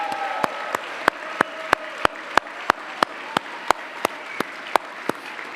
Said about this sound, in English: can I get a big round of applause for our chefs and our servers and all of our food and beverage folks?